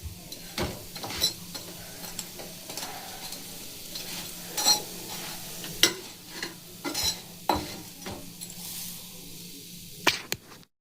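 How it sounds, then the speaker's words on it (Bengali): Bread pakora shallow-frying in a little oil, sizzling softly at close range while being turned, with a steady fry hiss broken by several sharp scrapes and taps from a spatula against the pan. "যারা তেল খাওয়া খুব কম খান, একদমই পছন্দ করেন না, তারা এভাবে ঠিক ঘুরিয়ে ঘুরিয়ে ভেজে নেবেন।"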